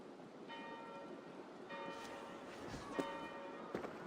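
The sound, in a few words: church bells ringing in Assassin's Creed Valhalla video game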